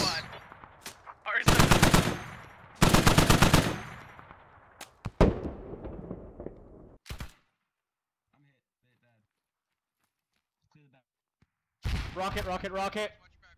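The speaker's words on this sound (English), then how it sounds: "I'm gonna be utilizing this Dishka over here. This is not a shielded Dishka" Heavy DShK machine gun firing in the shooter game Squad, loud sustained bursts near the listener with scattered single shots and distant gunfire, a quiet gap, then another long burst near the end.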